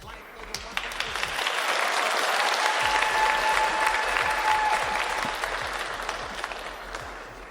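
Audience applause from a crowd, building to a sustained, fairly loud wash of many hands clapping that holds steady and then eases slightly toward the end, with a faint tone running beneath it.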